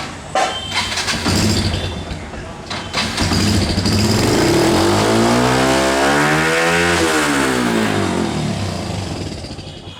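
A Yamaha FZS motorcycle fitted with a Daytona Dagrex exhaust revs hard, its loud, close engine note climbing steeply toward high RPM and then falling away, with no talking.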